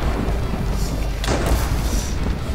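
Thunder from a lightning strike in Minecraft booms heavily, a loud dense rumble filling the whole clip with a sharper crack partway through, with no talk.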